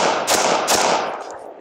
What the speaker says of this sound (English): We're gonna put it back at 15 yards, put a few rounds in it, and then maybe follow it up with some AK rounds